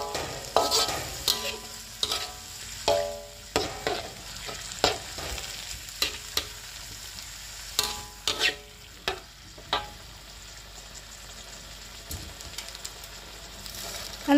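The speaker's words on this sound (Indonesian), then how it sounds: "lalu kita aduk-aduk dan ditunggu sampai bumbunya benar-benar meresap ya" A spatula repeatedly scrapes and clacks through an Indonesian stir-fry of kencur leaves in a sizzling pan, about a dozen sharp strokes over a steady frying hiss, nearby and without talk.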